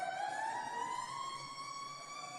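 A siren rung at a hockey game gives one sustained, slowly rising wail that holds steady and carries with no talk over it.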